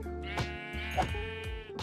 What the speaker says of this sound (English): Wait, there's some sheeps down here.